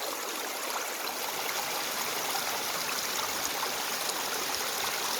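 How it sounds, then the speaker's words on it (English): A clear snowmelt mountain stream in Oregon flows in a steady, even rush of water, close and continuous throughout with no other sounds. "These are snow melt mountain streams"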